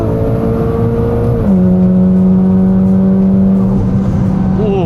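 A Mitsubishi Lancer Evolution X FQ-440 MR engine revs high and hard, its pitch holding, then dropping and climbing again as it accelerates through gears, loud and close.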